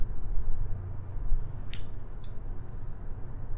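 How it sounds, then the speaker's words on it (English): Scissors angled to snip along marked lines while shaping miniature tongs; two short, crisp cuts stand out over a low steady background hum. "you're going to have to kind of angle your scissors to get them in there"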